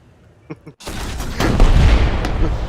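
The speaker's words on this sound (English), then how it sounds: "the explosion noise of that thing going, of the SAP triggering on the armor" A SAP shell bursts against tank armor in a tank combat video game, opening with a sharp crack that swells into a loud, rumbling explosion that rolls on and slowly fades, after a couple of faint pops.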